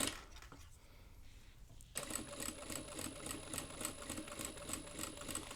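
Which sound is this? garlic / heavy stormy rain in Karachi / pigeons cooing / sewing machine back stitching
sewing machine back stitching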